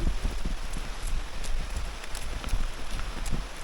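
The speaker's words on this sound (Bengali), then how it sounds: "পুরো বৃষ্টি" Heavy rain falls in a village, a dense, steady hiss of drops pattering on nearby surfaces with no pause throughout.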